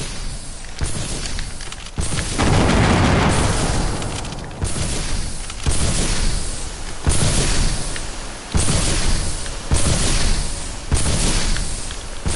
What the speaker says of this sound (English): We're gonna do some bombs